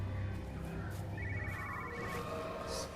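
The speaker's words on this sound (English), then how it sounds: "I also hear a phone." A telephone rings in a small house and garden in the game Everybody's Gone To The Rapture, a faint, distant warbling bell in repeated bursts over a low ambient hum.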